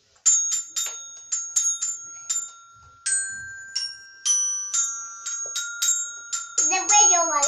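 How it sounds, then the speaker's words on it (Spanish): A child strikes a toy carillon, sounding a string of bright, ringing chime notes in an uneven melody, each note decaying briefly; a short burst of child speech comes in at the end. "Ahora Jony Junior os va a demostrar el arte del carrillón"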